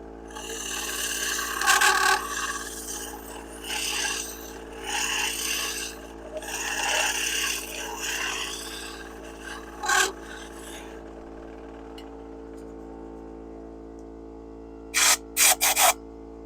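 Wood being hollowed on a lathe with woodturning hollowing tools gives a steady rasping, scraping drone in repeated bursts, then brief sharp scrapes after a pause.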